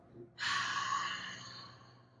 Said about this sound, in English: Exhale, making a sound like an H through your mouth.